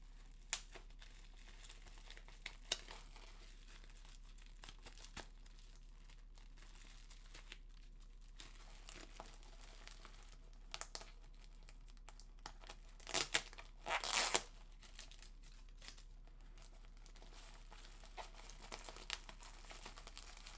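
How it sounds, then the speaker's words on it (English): Label being peeled off an eBay package, quiet faint crinkling and small ticks through most of the stretch, with a brief louder tearing burst near the middle, no talking. "I'll take this label off for a start"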